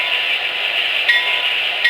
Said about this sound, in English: I want to kind of again give you the bell so you can hear it.